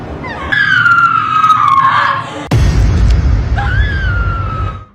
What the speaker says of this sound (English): causing her to scream hysterically